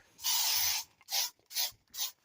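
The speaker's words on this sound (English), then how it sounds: "Now I'm going to spray the ever-loving crap out of this place." An aerosol can of insecticide sprayed against mosquitoes at a camp lets out four close, hissing bursts: one long blast, then three shorter spurts with brief pauses between them.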